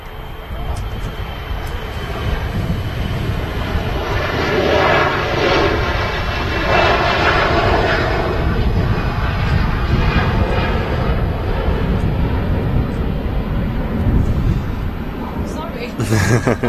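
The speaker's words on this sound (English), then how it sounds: "The 2XL 737 now rolling." A 2XL Boeing 737 rolling for takeoff at Manchester Airport gives a loud, sustained jet roar that swells and holds, with talk over it.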